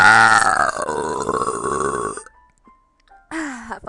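A young woman lets out a long, loud, drawn-out belch lasting about two seconds, then after a brief silence a shorter second burp follows.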